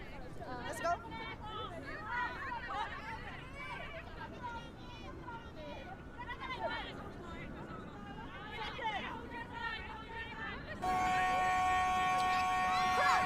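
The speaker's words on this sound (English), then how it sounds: "There goes the siren for full time." A crowd murmurs and chatters at a women's rugby match, Japan versus Hong Kong China in the 2025 Asia Rugby Women's Championship, then the loud full-time siren sounds as a steady tone through the final couple of seconds.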